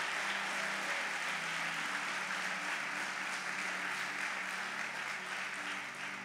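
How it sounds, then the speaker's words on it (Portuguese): A church congregation applauds in a sustained, even roar of clapping that holds steady for several seconds without speech over it. "Será que você pode aplaudir a Ele com toda a tua força?"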